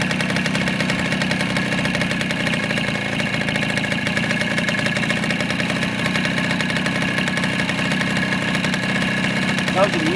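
A 1984 Garelli Basic scooter engine idles nearby in a steady buzzing putter with a constant rapid pulse that holds evenly throughout.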